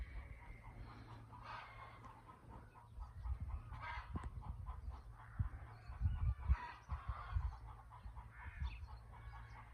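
Hens in a garden at the end of March, among fruit trees, cluck and murmur continuously in a soft, scattered chorus, fairly faint and close, with no talking.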